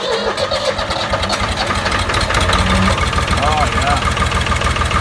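A Case 380CK tractor's diesel engine cranks, catches and settles into a steady, loud idle right up close, while someone speaks briefly over it.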